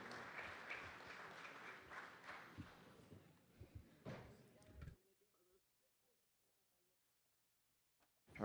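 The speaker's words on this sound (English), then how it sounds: "Another big round of applause for the Colonel." Applause for a retiring colonel at a city council meeting, a crowd clapping steadily for about five seconds with a few thumps, then abrupt silence.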